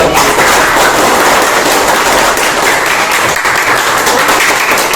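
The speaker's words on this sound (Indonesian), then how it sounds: "Tepuk tangan dulu." Classroom applause for group 4 after a presentation, a dense, steady wash of clapping from many students filling the whole span at close range and loud, with no talk over it.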